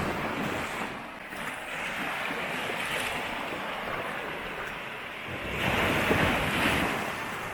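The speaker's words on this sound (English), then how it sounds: "there's some nice rocks there with the sea coming over them" Sea surf washing over coastal rocks near a lighthouse, a steady broad wash of breaking water with wind buffeting the microphone, swelling louder toward the end.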